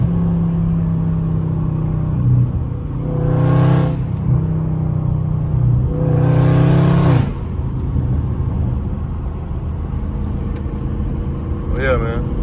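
A Dodge Scat Pack on the highway revs its engine in two loud, rising bursts over a steady road drone, while someone talks over the engine.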